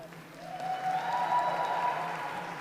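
Applause and cheering from spectators at a university lead and speed climbing championship final, a swelling crowd roar in a large hall, moderately distant.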